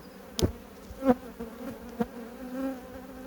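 Hybrid black honeybees buzz close by in a steady hum, with a few sharper passes as individual bees fly near.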